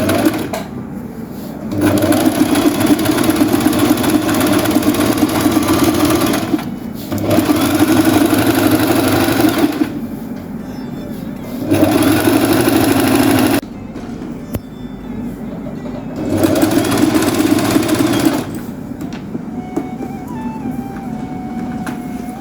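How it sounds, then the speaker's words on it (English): A sewing machine stitches the facing of a kaftan, running in loud, steady bursts of a few seconds each, broken by short pauses, with no talking. "We are now stitching the facing."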